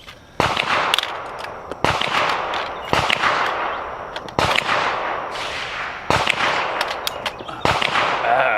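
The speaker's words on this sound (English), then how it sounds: "I'm going to fire off the last 10 rounds" A JC Arms fixed-magazine AR rifle fires single rounds on a range, loud, close sharp cracks spaced roughly one to one and a half seconds apart, each followed by a short ringing echo.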